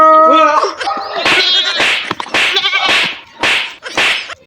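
A goat bleats repeatedly up close, a series of loud, wavering cries in quick succession, one after another with brief gaps, fairly harsh and nasal, with no talk over them.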